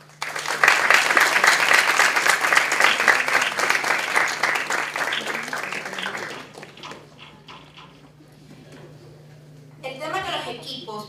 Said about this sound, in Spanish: Un aplauso para los jurados.